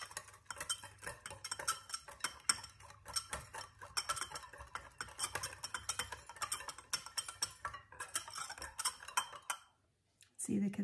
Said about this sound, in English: Now you're going to give that a stir.